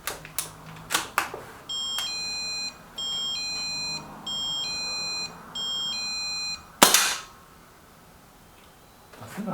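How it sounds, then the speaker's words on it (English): Electronic buzzers signal a postman arriving on the drive, with four even, repeated tonal beeping bursts of a couple of seconds each, preceded by sharp clicks and followed by a loud bang, fairly near and clear. "Please excuse the buzzers going off"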